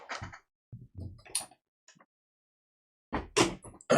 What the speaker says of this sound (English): Just closing the door here.